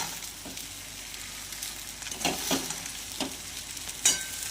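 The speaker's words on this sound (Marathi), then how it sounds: "यामध्ये घालूया भिजलेला साबुदाणा आणि छानपैकी याला असं परतून घ्यायचं आहे आपल्याला" Soaked sabudana stir-fried in a pan with green chili and turmeric: a soft, low sizzle with a few scattered spatula scrapes and taps, fairly quiet and close.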